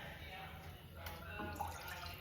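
About one and a half cups of water pour into a cooking pot for Maggi noodles, a faint splashing and dribbling under a person's quiet talk.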